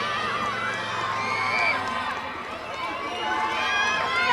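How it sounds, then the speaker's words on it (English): A crowd screams and cheers in the finish arena of an orienteering relay as a pack of runners arrives, a continuous loud roar with shrill shouts and whoops. "you can hear the screams in the arena as this second pack is entering the finish arena"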